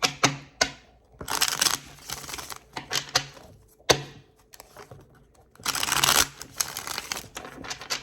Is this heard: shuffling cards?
yes